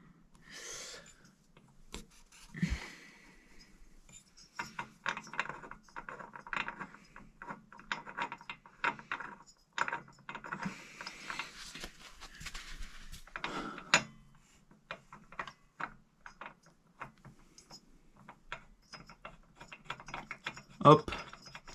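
Metallic ratcheting clicks and short grinding turns in bursts, close and fairly quiet, as a piston block tool is tightened on an old moped engine such as a Peugeot or Ciao.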